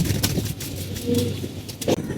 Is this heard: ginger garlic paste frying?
no